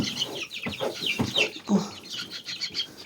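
Nearly month-old chicks clucking and cheeping close by in a steady, overlapping chatter, with faint higher peeps mixed in.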